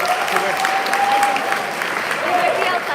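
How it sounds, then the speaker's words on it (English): Wedding reception guests applauding the newlywed couple: lively, dense clapping from a close crowd, loud and sustained, with a brief whistle-like tone and scattered voices underneath. "can we please get a round of applause for the beautiful couple?"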